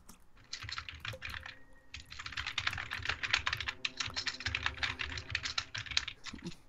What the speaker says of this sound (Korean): 엄청난 타자 소리가.